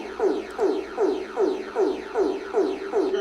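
Barbados emergency alert sound: a loud, rhythmic electronic pattern of repeated descending synth sweeps pulsing about twice a second, like club music, heard alone.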